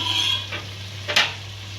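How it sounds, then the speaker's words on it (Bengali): Rice being roasted in masala for hilsa khichuri, heard as a brief stir and scrape of a spoon through the pan over a faint sizzle, with one sharper clink near the end and no voices. "এই মশলার ভিতরে পুরোটা চাউল আমি 10 মিনিট সময় নিয়ে আমি কষিয়ে নেব"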